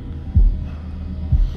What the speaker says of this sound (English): Heartbeat thing again, is it?